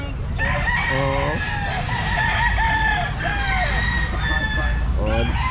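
A rooster crows loudly several times in a row, close by at a pet market, with clucking and other fowl sounds around it.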